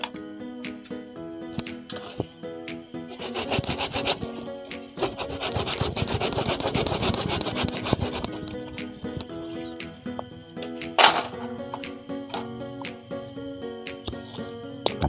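A hand saw rasps through a banyan tree root in steady back-and-forth strokes that build to a dense, close stretch in the middle, with lighter scraping and a sharp knock around it.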